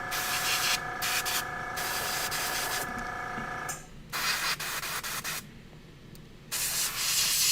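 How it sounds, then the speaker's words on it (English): An airbrush sprays paint onto Warhammer 40k Genestealer miniatures, giving a hissing spray in several bursts of varying length, with short quiet gaps between them. "Airbrushing these guys."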